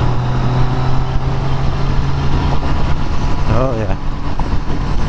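Triumph Street Triple R motorcycle engine running steadily while riding, a continuous loud drone with wind rumble throughout and a brief rising whine near the end; a rider speaks briefly over it.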